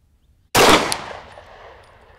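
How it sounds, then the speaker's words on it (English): A single loud, close pistol shot at an outdoor range, fired at a target 25 yards away, with a sharp onset and a ringing tail that fades over about a second and a half. "Gonna try to put some rounds on target at 25."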